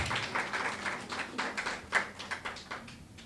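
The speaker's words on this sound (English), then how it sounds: "Give Miss Williamson a big round of applause" Scattered, fairly quiet clapping rises for an award winner at a 2018 GSAT awards ceremony in South West St Elizabeth, with irregular hand claps swelling and thinning over a few seconds.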